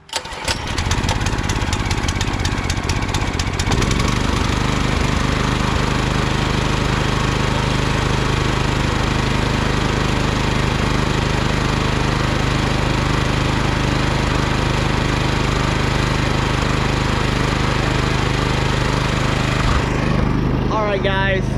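A new Predator 212 small engine is pulled over on choke, then catches and settles into a steady, loud running drone at half throttle that continues to the end.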